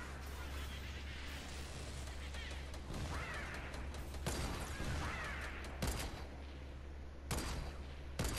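Sniper and other gunfire in the video game Fortnite, a few sharp cracks spaced several seconds apart over a dense mix of game sounds, with players talking throughout.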